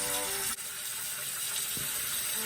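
Water pours steadily from a bathroom sink tap as it warms up. The hiss is loud and continuous, with a faint knock partway through.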